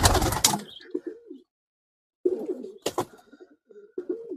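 Pakistani breeder pigeons cooing close by in soft, rolling bursts, with a quiet gap midway and a brief flutter-like clatter in between.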